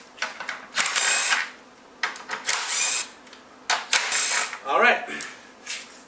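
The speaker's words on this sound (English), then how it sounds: "having this power tool helps a lot. Might as well undo all the bolts." Repeated short bursts from a power tool undoing the bolts on a car radiator, each burst a sharp whir or ratcheting buzz, separated by brief pauses and close-by handling noises.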